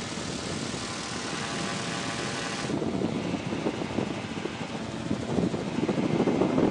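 A gyroplane in flight, a steady droning engine drone mixed with heavy wind rush, loud and constant, the wind roar growing slightly stronger partway through.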